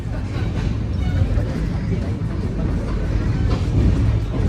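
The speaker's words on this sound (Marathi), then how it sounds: "ट्रेन आमची चालली आहे या साईडला" Tejas Express train running from Mumbai toward Konkan, heard from inside a carriage as a loud continuous low rumble and rattle with passengers chattering in the background.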